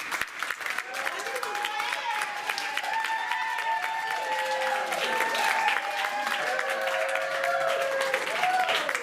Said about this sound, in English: Let's get some clapping.